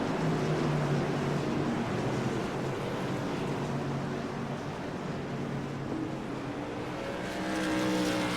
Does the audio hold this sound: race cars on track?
yes